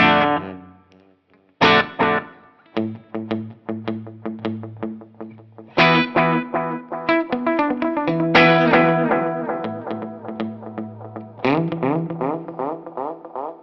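Electric guitar phrases played through a Mosky Blue analog delay pedal, each note repeating in fading echoes that pile into a dense, ringing wash, with no speech.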